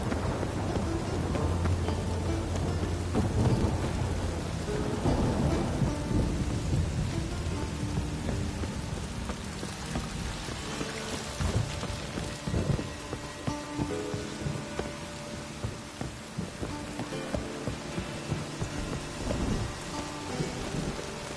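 Heavy rain pours steadily through a thunderstorm in The Witcher 3, with rolling thunder rumbling low and long beneath the constant hiss across the whole stretch.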